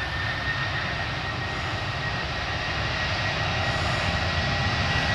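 A Ryanair jet airliner takes off at Manchester Airport with a steady, dense engine roar that holds at an even loudness throughout and is heard from a moderate distance.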